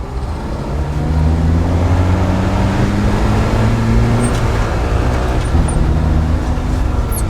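A truck with no working brakes rolls out onto a street, its engine a steady loud low rumble that holds for several seconds, with broadband road noise and no speech.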